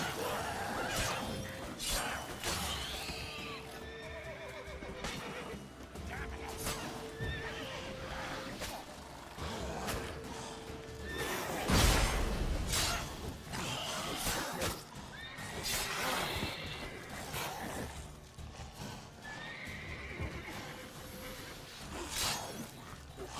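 Repeated horse neighs and steady hoof clip-clop from The Witcher 3: Wild Hunt on Death March difficulty, with occasional whooshes and a crashing thud midway, loud and near within continuous game action.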